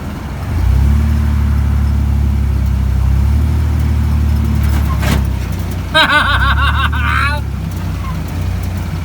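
A jeep drives at about 35 mph over rough, bumpy ground, its engine a loud, steady close drone throughout, with short squeaky rattles partway through.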